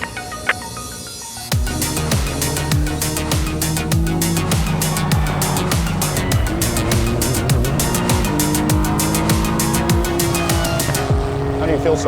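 An Acura race car laps a track, its engine loud and close as it revs up and down through repeated gear changes with steady rising and falling pitch sweeps.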